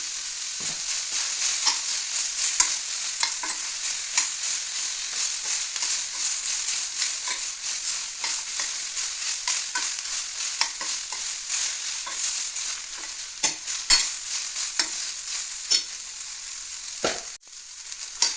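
Spices with black pepper and turmeric fry in a pan for chicken gravy, a steady close sizzle punctuated by frequent rhythmic scrapes and clicks of a spoon stirring.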